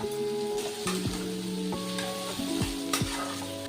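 Chopped garlic and onions sizzling in hot oil in a pan as a base for frying whole Bombay duck fish, a steady close crackle broken by a few clattering stirs and taps.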